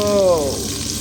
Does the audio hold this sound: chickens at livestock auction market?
no